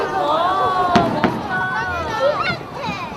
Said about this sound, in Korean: 밤하늘을 예쁘게 수놓은 불꽃 축제가 시작됐습니다.